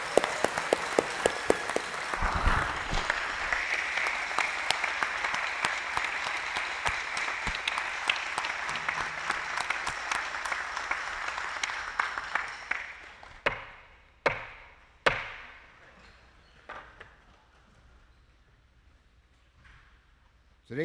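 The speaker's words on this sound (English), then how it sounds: "Let's give a round of applause." Audience applause at a New York State Boys State assembly, a long steady sustained clapping that fills the hall for about twelve seconds, then thins to a few scattered sharp claps and taps before fading out.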